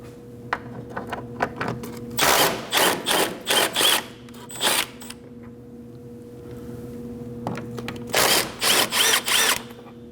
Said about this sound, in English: Using a 14mm socket, go ahead and take them off.